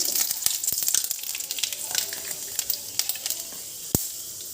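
Bay leaf and panch phoron spices hitting hot oil for a Bengali potato dal, a steady close crackling sizzle with sharp pops and spits throughout, no talking.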